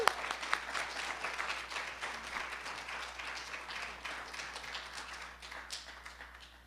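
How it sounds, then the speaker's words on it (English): Church-service audience applauding a speaker, a continuous crowd of hand claps at moderate level that carries steadily and slowly fades, with no talk over it. "So let's give Troy Olds a big round of applause."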